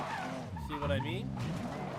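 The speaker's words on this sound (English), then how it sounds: "Went too early and I lost my drift." Car drifting in Need for Speed: Most Wanted, a sustained tire squeal with engine noise, moderately loud, with someone talking over it throughout.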